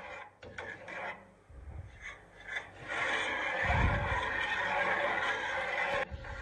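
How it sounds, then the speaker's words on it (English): A wooden spoon stirs Chinese curry paste (curry roux) in a pot, giving a steady close rasping scrape that builds after a few seconds and continues with little pause. "make sure you keep stirring until all the lumps are away"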